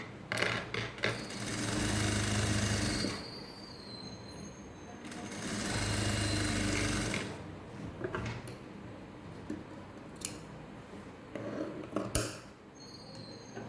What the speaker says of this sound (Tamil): இந்த கேன்வாஸை ஒட்டியே வர்ற மாதிரி தையலை கொண்டு வாங்க